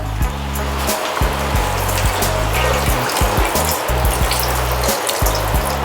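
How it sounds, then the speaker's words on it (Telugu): Water is poured into a pan of fried chicken, producing a loud, continuous splashing rush over a low, steady hum. "కాస్త వాటర్ పోసుకుంటాం."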